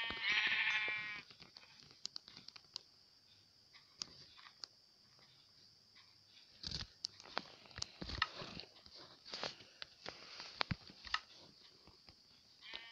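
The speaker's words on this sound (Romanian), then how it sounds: "Oile la răsărit." A single sheep bleats loudly at sunrise at the very start, followed by quieter scattered clicks, rustles and munching sounds.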